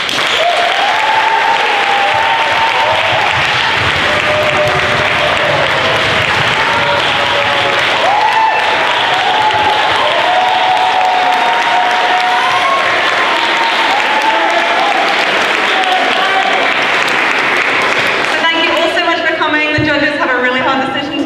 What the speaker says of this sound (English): I think we deserve a really big round of applause for them